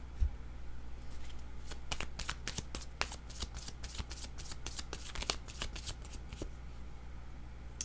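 Two mixed decks of tarot cards are shuffled by hand in a rapid run of crisp riffling flutters and slaps, close and fairly quiet, over a low background hum.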